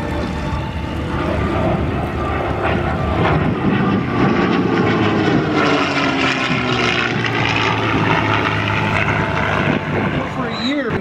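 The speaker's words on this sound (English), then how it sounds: "A sound that actually harmonizes with the Merlin engine." A restored Merlin-engined propeller warplane's piston engine roars loudly and steadily at an airshow, its deep throbbing drone holding throughout as it passes close by.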